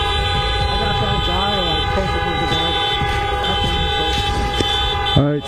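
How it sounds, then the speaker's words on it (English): Car horns honk from a parking lot across the street, sustained overlapping tones that blare steadily and loudly throughout, with a person talking beneath the din. "So you hear honking because they're in a parking lot that's across the street."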